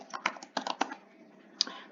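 Quick bursts of keystrokes on a computer keyboard as a short search is typed, close and quiet, with a brief pause before a final tap.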